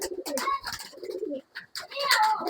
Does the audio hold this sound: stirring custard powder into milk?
no